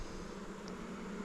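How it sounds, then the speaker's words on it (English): Honey bees hum in a new hive, a steady, even, close drone with no pauses and no voices. "That's a full frame of bees right there."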